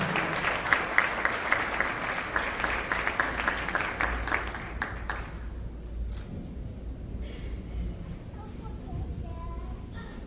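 An audience at a Haitian dance competition, the Harry Policard cup, applauds a welcome speech: dense, lively clapping for about five seconds that thins out and fades to a quiet hall.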